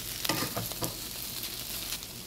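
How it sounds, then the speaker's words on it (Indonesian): Chicken stir-frying in a pan, a steady close sizzle with a few sharp scraping knocks as the spatula stirs it, no talk. "Kemudian aduk-aduk lagi. Nah, ini tumisan ayamnya sudah matang ya."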